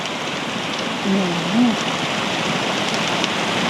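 Heavy rain pounds a tent campsite in Nakhon Nayok during a storm, making a dense, steady roar of drops with a short murmur of voices partway through.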